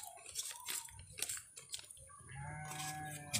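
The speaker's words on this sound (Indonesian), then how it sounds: "Wah, suara domba sobat." A sheep bleats faintly in the distance, its wavering tone emerging near the end over soft rustling and handling noises close by.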